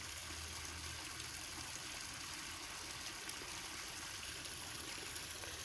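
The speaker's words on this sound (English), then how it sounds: "Yeah, we got a little water flow." A small creek runs after days of heavy rain, a steady close rush of flowing water with no break, broadband and even throughout.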